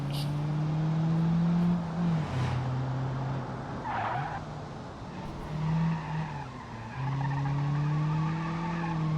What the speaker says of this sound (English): Yeah, it doesn't skid as much anymore.